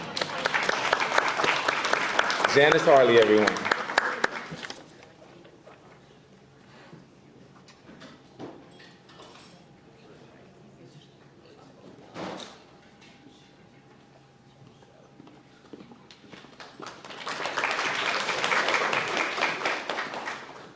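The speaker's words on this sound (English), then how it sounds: "Let's all give a round of applause for Janice Harley." Audience applause greets author Janice Harley at a book launch, a burst of clapping opening the stretch, then quiet with a brief knock, and a second round of applause near the end; a voice speaks briefly.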